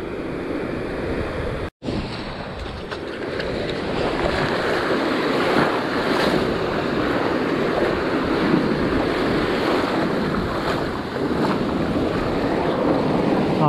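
Sea surf at Poetto beach in Sardinia under a scirocco wind, a continuous close wash of small waves with wind buffeting the microphone and a brief cut near the start.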